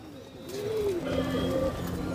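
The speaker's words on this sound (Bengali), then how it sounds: "এই এক জোড়া কবুতর" A pair of pet pigeons coos close by, soft rising and falling calls repeating over about two seconds against a quiet background.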